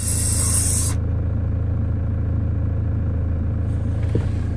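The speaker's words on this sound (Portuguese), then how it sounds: "esse barulho de ar no começo de acionamento do pedal é normal" Air hiss from the brake booster of a Toyota Hilux as the brake pedal is pressed, a loud broad hiss lasting about a second at the start, then a steady low engine rumble.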